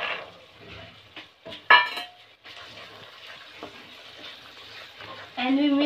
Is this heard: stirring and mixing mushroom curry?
yes